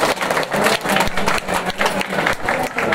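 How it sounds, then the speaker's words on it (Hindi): Loud, sustained applause from a crowd at a Ram Navami convocation ceremony at Shantikunj, Haridwar: dense, continuous clapping with rhythmic swells, close and filling the space. "जोरदार ताली बजा करके आशीर्वाद दे दीजिए।"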